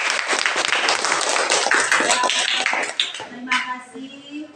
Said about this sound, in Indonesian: kita kasih aplaus dulu untuk kita diri sendiri